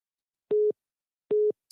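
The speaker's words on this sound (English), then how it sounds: "Why is it still ringing when I've answered the call?" A telephone line on a radio call-in show sounds two identical electronic tone bursts, evenly spaced and alone against silence.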